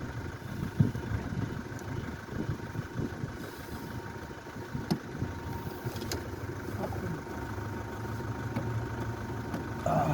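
Suzuki Swift car engine idling steadily with a low irregular rumble, fairly quiet, with occasional clicks and faint sounds around it.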